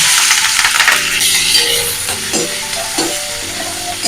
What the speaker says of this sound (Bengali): পেঁয়াজটা এরকম লাল লাল করে ভেজে নিয়েছি।